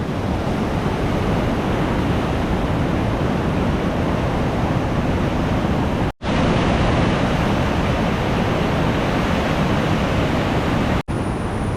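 A monsoon-swollen river in Idukki roars past almost level with a bridge, a dense, continuous wash of rushing water with wind noise, broken by two brief dropouts.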